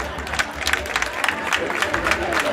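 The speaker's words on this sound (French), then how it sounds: "de les demander d'applaudir aujourd'hui leur proviseur Pafarissé" An audience applauds a school headmaster at an excellence dinner in Diourbel. The clapping is scattered and uneven, with crowd murmur and voices mixed in under a low background hum.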